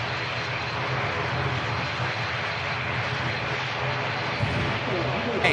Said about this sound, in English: ATR taxiing out on the return leg to Dublin